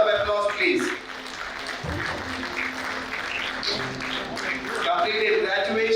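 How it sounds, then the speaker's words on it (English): Audience applause at a golden reunion for a 1971 graduating batch: steady, dense clapping that runs for the full stretch, with voices and other room sound mixed in beneath it. "Big round of applause, please."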